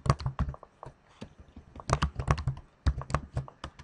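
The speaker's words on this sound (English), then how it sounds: "So we'll type in a file name." Typing on a computer keyboard while entering a file name: quick clusters of crisp, close key clicks in uneven bursts, separated by short pauses, with no talk.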